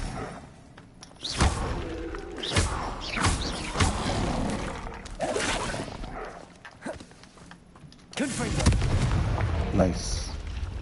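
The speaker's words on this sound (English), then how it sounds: "Confringo! It is a strong spell." Confringo spell blasts in Hogwarts Legacy, several loud thumping explosive bursts with crackling tails spread over the clip amid game sounds, with a voice talking in between.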